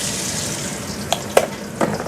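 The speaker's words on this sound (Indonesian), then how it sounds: "Kita goreng ikan yang seperti ini ya" Fish frying in a home kitchen pan, a steady close sizzle with a few sharp pops and spatters spaced across the moment.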